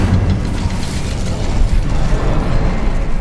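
Incendio fire spell cast inside a cavern in Hogwarts Legacy, a sustained crackling, mechanical-sounding flame burst over a low rumble, steady and fairly loud with no voices.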